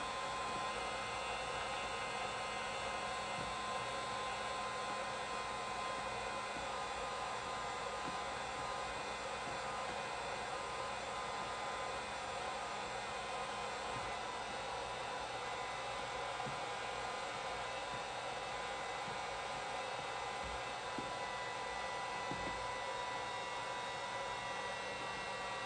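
Heat gun blowing steadily while gradually warming headlight tint film on a 2021 Jeep Grand Cherokee L, a faint constant whooshing hiss with no talking.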